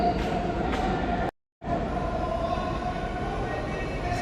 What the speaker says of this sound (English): So this subway station is huge